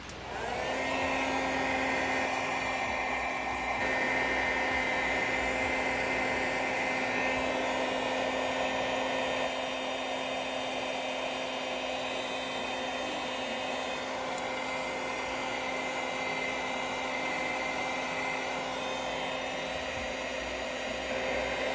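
Heat tool blowing hot air across a craft project, a steady, close whooshing hiss that runs unbroken for about twenty seconds with no voices.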